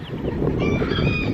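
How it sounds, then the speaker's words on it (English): Several chickens cluck and chatter nearby, a busy overlapping flock sound with faint higher calls. "it looks like I've got some chickens that got out"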